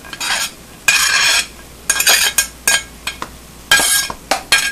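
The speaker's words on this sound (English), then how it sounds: "We're going to add the onion and the garlic" A spoon scraping and clinking in a pot while onion and garlic are stirred into browned ground beef, with bursts of stirring repeating in a rough rhythm, close and loud.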